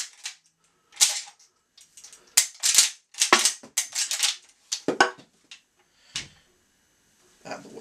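A revolver's hammer falls on snap caps amid cylinder and action handling, sharp metallic clicks and clacks in irregular bursts, close and crisp with short silent gaps between them.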